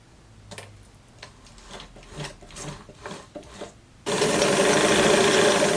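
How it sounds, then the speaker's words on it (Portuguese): Sewing machine stitching around a blouse outline, preceded by light handling taps and rustles, then a loud, steady close-up motor drone for the last couple of seconds. "vamos costurar aqui todo o contorninho"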